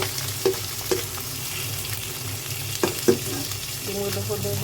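Eggs sizzle and fry in a pan for fried rice with a steady, hissing crackle throughout. A few soft stirring knocks against the pan sit on top of the sizzle.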